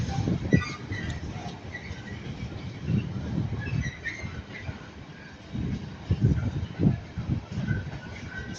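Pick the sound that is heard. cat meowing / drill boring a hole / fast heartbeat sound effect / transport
transport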